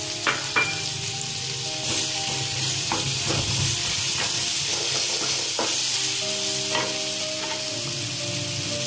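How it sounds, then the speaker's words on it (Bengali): Onion frying in oil with whole garam masala, a continuous loud sizzle with intermittent stirring scrapes and clinks close by. "পেঁয়াজটাকে একটু ভাজতে হবে।"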